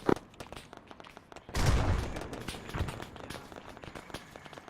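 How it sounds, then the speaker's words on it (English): Military platoon training exercise with bursts of simulated gunfire: a sharp crack at the start, then a heavy roaring volley and scattered further shots, with footsteps and movement, fairly distant. "We're taking heavy fire."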